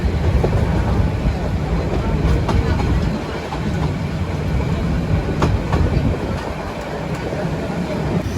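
A train pulling out of Fazliabad Junction near Chittagong rolls along with a loud, close, continuous rumble and rhythmic clickety-clack of wheels over rail joints, heard from on board.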